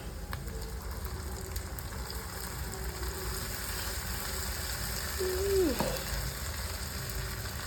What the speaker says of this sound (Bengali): আদা রসুনের পেস্ট ঢেলে দিচ্ছি